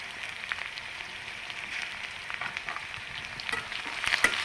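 Small chopped tomato frying in oil for avalakki poha: a steady, moderate sizzle and crackle throughout, with light stirring scrapes and spitting pops that grow a bit busier toward the end.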